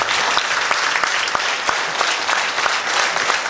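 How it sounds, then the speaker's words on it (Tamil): Steady, dense applause from an audience at a humour club gathering in Tamil Nadu, continuous and fairly loud throughout with a few sharper claps standing out and no speech over it. "நன்றாக கைத்தட்டுங்க."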